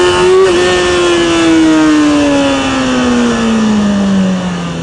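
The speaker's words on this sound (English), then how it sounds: "We're going to take off in first gear, accelerate hard" A motorcycle pulls away in first gear under hard acceleration, its engine note climbing steadily and loudly for several seconds from close by, with no one talking.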